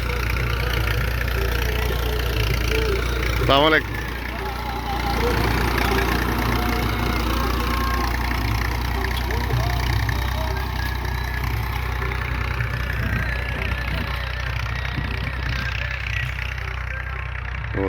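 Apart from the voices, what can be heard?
tractor engine running in guava orchard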